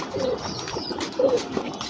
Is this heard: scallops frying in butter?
no